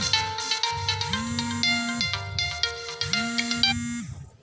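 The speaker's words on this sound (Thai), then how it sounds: "มีสายเข้า" A phone ringtone for an incoming call plays during a forest outing, hunting variegated plants in Thailand: a bright repeating electronic melody, fairly loud and close, cycling through two full phrases with no talk over it.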